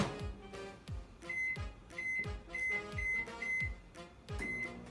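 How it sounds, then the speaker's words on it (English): A low-wattage microwave oven runs with a steady hum, punctuated by repeated low thumps and short high beeps spaced through the few seconds, fairly close and moderately loud with no talking. "this is going to go in the microwave for about 10 to 12 minutes"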